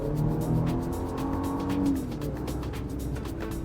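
A 2025 Nissan Patrol V6 engine accelerating, a steady, close engine drone that rises briefly in pitch and then settles, heard alone with no voices.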